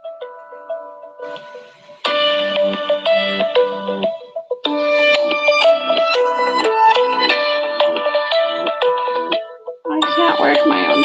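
A phone ringtone plays a bright repeating melodic tune in loud bursts with short gaps, as an incoming call rings in a classroom-style setting.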